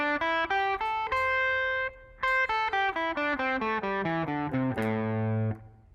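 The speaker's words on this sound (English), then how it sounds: "So the minor pentatonic scale is often the first scale that guitar players learn. It looks and sounds like this." Guitar playing the minor pentatonic scale, single clean notes picked one at a time up and then back down the scale, ending on a sustained note, clear and close.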